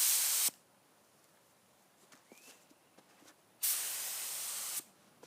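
Two bursts of a paint spray gun hissing as it coats a dump truck, a strong spray near the start and a longer one after a quiet gap with faint knocks.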